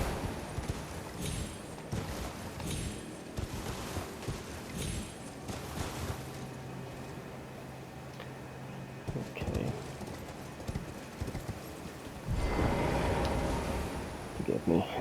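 In Elden Ring, a horse gallops with rhythmic clip-clopping hoofbeats, mixed with other game sounds and a louder rush near the end.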